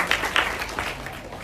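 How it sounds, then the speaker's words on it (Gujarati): Guests at a primary school ceremony receive applause from the gathered crowd, a brief burst of many hands clapping that fades slightly, with a faint low background murmur. "જોરદાર તાળી એમના માટે"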